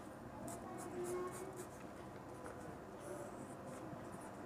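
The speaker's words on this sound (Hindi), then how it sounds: "देखो मैं दोबारा लिखता हूँ" Pen or chalk scratches steadily across a board while math equations are written out, a soft close scraping in short strokes over a faint background hum.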